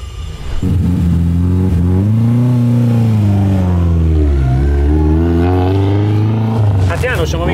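A car engine revs loudly at close range while warming up before a slalom timing run, the pitch rising and falling in long sweeps before dropping off near the end.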